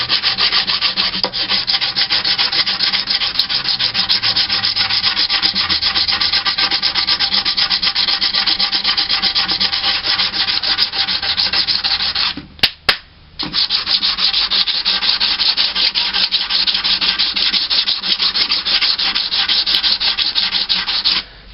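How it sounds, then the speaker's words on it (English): Bondo body filler being sanded on an Iron Man helmet with a flat sanding block, a steady, loud, close scratchy rasp of continuous strokes with one brief pause near the end. "Use a sanding block."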